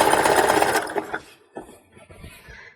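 A sewing machine runs fast as it zigzag-stitches around the edge of a leotard, a dense whirring buzz for about a second, then fading into softer intermittent stitching taps.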